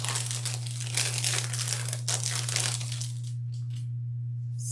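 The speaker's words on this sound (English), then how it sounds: "Sorry for the crinkly sound." Close, loud crinkling of plastic packaging being handled for a few seconds, then it stops, leaving a steady low hum.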